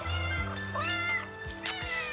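A cat in the movie Uninvited meows repeatedly, a few drawn-out rising and falling cries over a steady low background hum, fairly close and clear.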